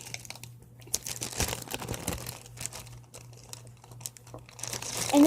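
A homemade squishy is slipped into a small plastic baggie, giving soft, intermittent crinkling and rustling up close, with a louder crinkle burst at the end.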